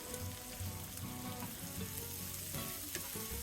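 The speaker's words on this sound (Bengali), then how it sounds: "হালকা বাদামি করে ভেজে নেব।" About one and a half cups of chopped onions fry in oil in a pan used for cooking small fish, giving a loud, dense, continuous sizzle with crackles and occasional pops throughout and no speech.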